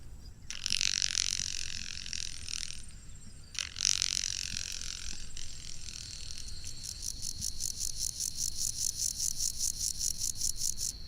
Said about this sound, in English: Grasshoppers sound a lot raspier.